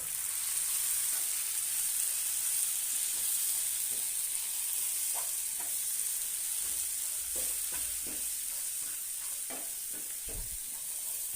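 Chili powder, turmeric, garam masala and salt fry in a pan with a steady high sizzle, while scattered spoon scrapes and taps sound close by, growing busier toward the end.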